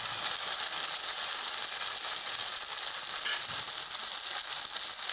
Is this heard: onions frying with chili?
yes